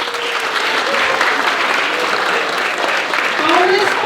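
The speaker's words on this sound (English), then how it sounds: "So please turn to the person next to you and just clap for them." An audience at a parents' event clapping for one another: a loud, continuous wash of many hands clapping together at close range, with a few voices audible within it.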